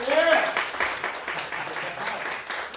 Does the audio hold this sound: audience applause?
yes